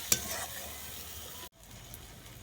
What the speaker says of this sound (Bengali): এবার মশলাটাকে আমি ভালো করে কষে নেব।